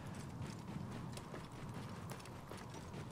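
Camel footsteps in Assassin's Creed Origins, a steady run of soft clip-clop hoof beats across sand, continuous and fairly quiet, with faint mechanical game ambience underneath.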